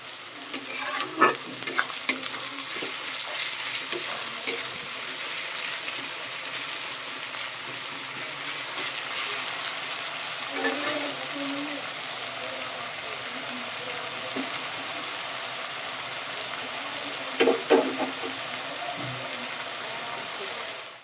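Onions sizzle in a pan until reddish-brown at a steady, moderate level, with a few clatters and knocks from stirring now and then.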